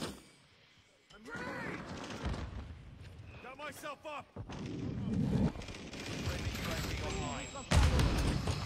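Gunfire in a first-person shooter game: several bursts of shots and thuds mixed with heavy in-game noise, while a player talks excitedly over the action.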